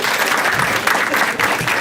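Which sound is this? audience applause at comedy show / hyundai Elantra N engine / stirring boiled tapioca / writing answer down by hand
audience applause at comedy show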